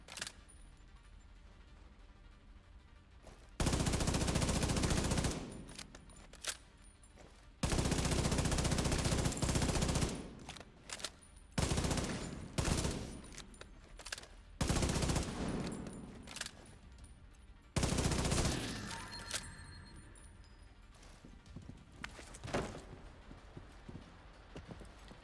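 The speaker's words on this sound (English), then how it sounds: "Was that gunfire?" Loud bursts of rapid gunfire in the video game Division 2 come in several long volleys separated by short pauses, with sharp single shots scattered between them.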